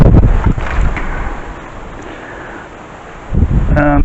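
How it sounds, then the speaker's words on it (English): Wind blowing outdoors during bonsai work, a steady broadband rush of gusts over the microphone, louder at the start and again near the end, with no speech. "the wind's getting up"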